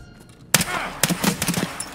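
Gunfire in Escape from Tarkov: one sharp loud shot after a quiet start, then several more cracks in quick uneven succession, close and punchy.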